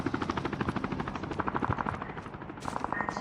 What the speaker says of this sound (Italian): Te l'ho detto che l'elicottero sta ancora qua.